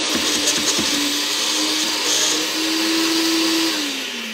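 A blender runs on high speed mixing a breakfast slushy, giving a loud, steady whirring roar with a low motor hum that shifts pitch slightly as the contents churn, and no voices.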